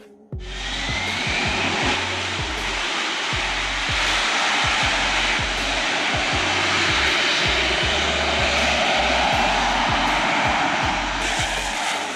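Loud, continuous jet engine roar from a Sea Harrier jet during vertical takeoff, with a steady high whine and rumble, close by, holding constant throughout with faint rhythmic thumps underneath.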